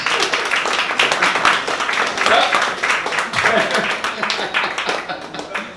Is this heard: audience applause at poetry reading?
yes